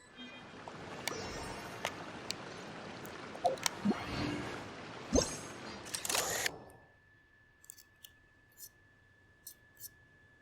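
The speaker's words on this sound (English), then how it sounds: "Spotter camera. The camera that Paimon carries with her." In Genshin Impact, Paimon's spotter camera sounds one crisp shutter click over busy game ambience, which then drops to a quiet steady tone with a few soft clicks.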